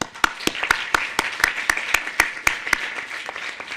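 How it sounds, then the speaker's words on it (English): Sparse, scattered claps from a modest conference audience for its speakers, individual sharp hand claps rising and falling at an irregular rhythm, fairly faint and alone without talk. "have a round of applause for all of our speakers"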